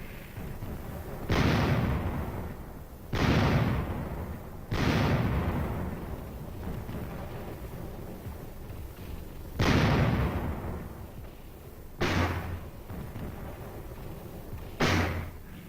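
Artillery fire and explosions from a Korean War assault backed by four artillery battalions and napalm-carrying aircraft: six heavy, booming blasts at irregular intervals, each with a long rumbling decay, over a steady low background.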